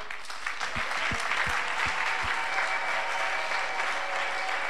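A church congregation bursts into sustained, loud applause with scattered cheering, a dense wash of clapping that holds steady throughout.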